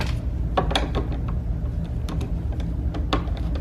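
Ratchet undoing 7mm bolts on a 2013-2020 Ford Fusion side mirror, a steady close mechanical clicking run with several sharper ticks and clacks scattered over a low hum.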